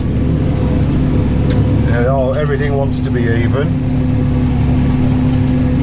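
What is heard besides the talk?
tractor engine running while ploughing grass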